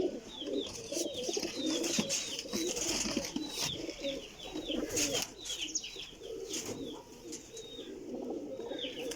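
Large Jhath pigeons coo in soft, overlapping calls at moderate distance, steady across the whole stretch with faint chirps mixed in.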